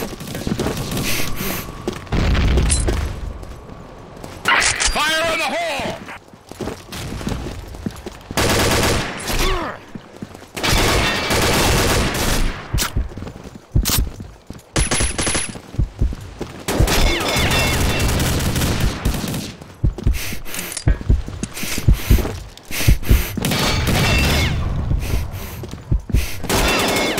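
Team shooter match with grenade blasts and gunfire: repeated loud bursts of rapid shots and booming explosions, broken by short lulls, with brief shouted voices in between.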